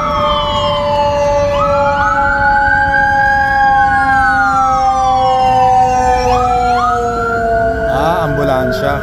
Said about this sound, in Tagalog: ambulansya.